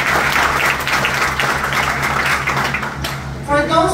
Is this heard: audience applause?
yes